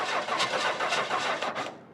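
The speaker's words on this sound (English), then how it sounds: "The engine is even older than the body." An old car engine built on a 1928 Model A Ford block cranks and catches, running loud and close with uneven, rough pulsing throughout and no voices over it.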